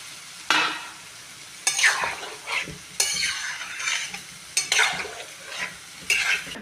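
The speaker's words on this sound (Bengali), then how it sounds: "তরকারি সব কষা হয়ে গেছে, আমি এবার জল ঢেলে দিচ্ছি।" A sautéed curry of beans, aubergine, potato and prawns is stirred in a sizzling pan, with a spoon scraping in repeated close strokes over a steady frying hiss.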